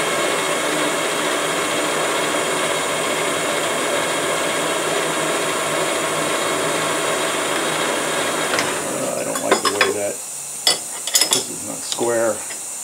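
Titanium ring stock being cut on a lathe: a steady, dense metallic whir and grind runs throughout, then breaks off near the end into a few sharp clinks and scraping bursts.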